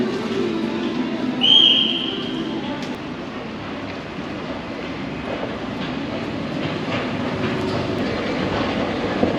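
A small red Swiss train pulls into a station on the Geneva–Nyon line with a steady low rumble, and a brief high squeal from the wheels sounds near the start.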